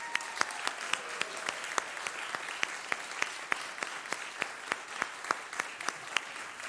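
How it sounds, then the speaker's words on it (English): A church congregation claps together during a Sunday service to thank the staff, with steady, dense applause and sharp individual claps carrying throughout, fairly close and without voices over it. "Can we just applaud the staff?"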